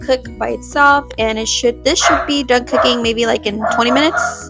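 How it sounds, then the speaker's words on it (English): A dog barks and yips repeatedly in a home kitchen while someone talks over the barking, the barks close and loud. "And that's my dog that you hear."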